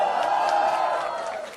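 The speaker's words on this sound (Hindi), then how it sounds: "तालियां बजाएंगे" An audience at a theater festival closing ceremony claps and cheers, a brief swell of crowd whoops and applause that fades toward the end.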